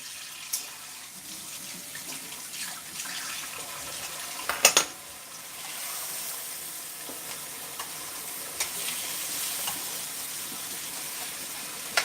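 Pork chops frying in a pan, a steady close hiss and sizzle with a few louder crackles and pops, no talking.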